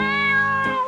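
A cat meows once in a drawn-out, tonal call, close and loud, with no talk over it, outdoors in a park.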